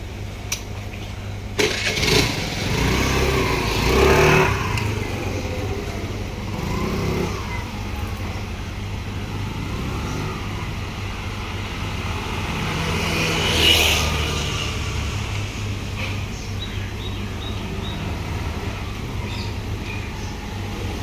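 A scooter fitted with support wheels is ridden in circles. Its engine gives a steady, close motor hum that swells slightly as it passes, continuing for about twenty seconds without speech.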